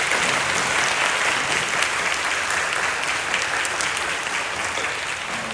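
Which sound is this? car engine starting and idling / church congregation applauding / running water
church congregation applauding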